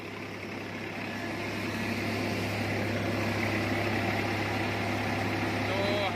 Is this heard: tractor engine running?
yes